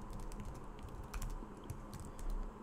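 Quiet typing on a computer keyboard while coding, a steady patter of soft key clicks at close range with no talking.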